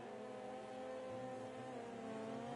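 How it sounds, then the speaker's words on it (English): Race cars in a racing video game roar past a drone camera, their engines forming a steady, buzzing drone that holds without pause. "when these cars go past the drone"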